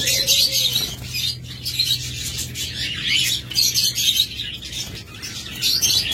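A roomful of caged pet lovebirds and other small birds, a dense chorus of high chirps and tweets from many birds at once with occasional fluttering, continuous and fairly close.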